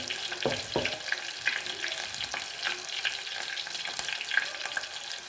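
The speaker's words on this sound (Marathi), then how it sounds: "काळा मसाला पण टाकून घेऊ आपण" Black masala fries in hot oil with curry leaves in an earthen pot for misal, giving a continuous crackling sizzle broken by soft stirring scrapes, with no one speaking.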